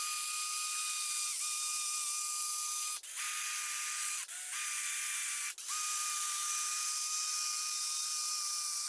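A sanding disc spins dry against a car headlight lens, producing a steady high-pitched whir broken by three brief stops and restarts.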